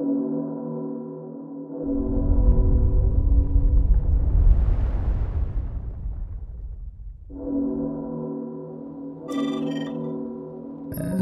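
Flame cannons mounted on a flying car in Zelda: Tears of the Kingdom let loose a loud, roaring explosive blast lasting several seconds, rising over a steady droning game background that fades out and then returns.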